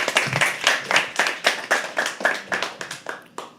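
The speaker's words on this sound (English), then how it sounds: "keep the applause going for Aditya." Enthusiastic clapping from an audience at a live poetry open mic at The Habitat, a steady run of close, crisp claps carrying on alone before the next performer.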